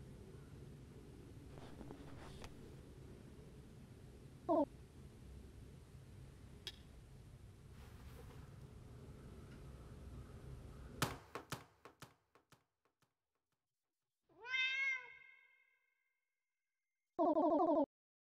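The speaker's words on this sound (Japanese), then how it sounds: "猫の声がする。" In the video game GOODBYE WORLD, a cat meows twice, near and clear, late in the stretch after a low rumbling ambience cuts off to near silence.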